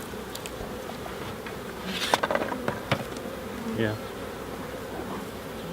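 Honeybees drone steadily in an open hive during an inspection. The close, constant buzz carries a few light clicks and taps from handling in the middle, and a voice speaks briefly.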